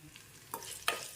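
Tempering of spices and curry leaves frying in oil for gongura chana dal, a soft background crackle with two brief sharper bursts of sizzling, fairly quiet and close.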